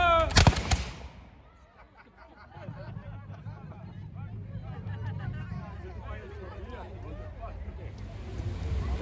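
Musketeers fire a musket volley, a loud sharp blast at the start that then fades into a low rumbling echo, followed by people talking outdoors.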